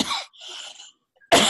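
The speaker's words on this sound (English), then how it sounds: "Excuse me, I have to cough." A single person coughs a few times in a quiet indoor setting during a conversation, with a harsh burst at the start, a softer rasp in the middle, and a sharp final cough after a brief pause.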